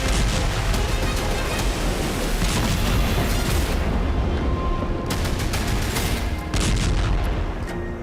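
Continuous loud rumbling barrage of wartime explosions and bursts in Ukraine, dense and overlapping, with sharper cracks around the middle and near the end.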